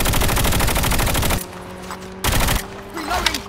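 Video game gunfire comes in a dense rapid burst of automatic shots, followed by a short pause and then another loud burst, close and sharp, with faint voice chat.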